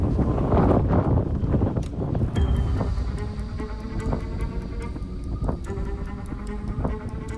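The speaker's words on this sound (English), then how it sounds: "It is windy here." Wind buffets a microphone in heavy, rumbling gusts, strongest at the start and easing slightly, with faint rhythmic knocking in the background.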